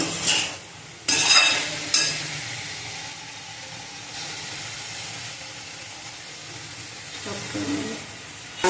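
Spicy egg bhurji masala fries in a pan. A soft, steady sizzle is broken by a few sharp bursts of stirring and scraping, while a person talks over it.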